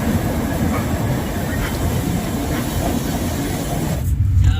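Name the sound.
Puri–Howrah Superfast Express train leaving Kharagpur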